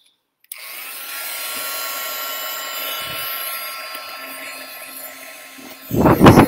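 A heat tool blasting mixed media paste on a craft tag gives a steady, fairly loud blowing whir that runs for about five and a half seconds. A short louder burst of handling noise comes at the end.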